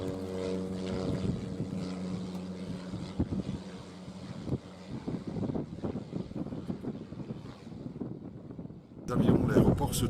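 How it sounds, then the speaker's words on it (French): A propeller airplane passes low over anchored boats near the airport at Grand Case, a loud droning engine with layered tones that swells and fades under wind noise and talk. "quand les avions passent, ils passent juste au-dessus juste au-dessus des bateaux que l'on voit là"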